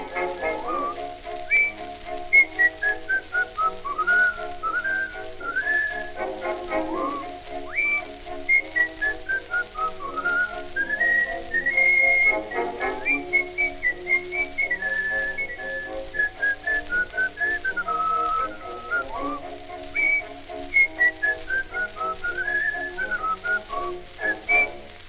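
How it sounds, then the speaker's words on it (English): Whistled song melody from an early Victor recording from The Wall Street Girl, a continuous tuneful whistle carrying the tune over faint accompaniment, steady and fairly loud, no voices. "Pucker your lips up and follow me while I am singing the melody. So come on, help me along, won't you whistle it with me."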